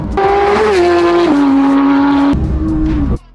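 A rebuilt Porsche 911 GT3 race car accelerates hard down a long straight, its engine screaming loud and close with pitch steps at each gear change before cutting off abruptly.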